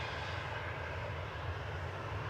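A Boeing 737-800 jet engine at Manchester Airport roars steadily from a distance, a broad continuous rumble with a low hum, unchanging over the short stretch.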